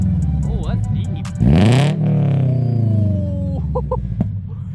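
A 2022 Subaru BRZ with an aftermarket single-exit exhaust revs up hard, a rising engine roar followed by a long falling note, heard from nearby with voices talking over it.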